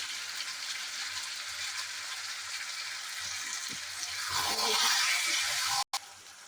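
Mutton fries with coriander powder in a pan for a Bengali mutton and potato curry, a soft, continuous sizzle that swells louder toward the end as the meat is stirred.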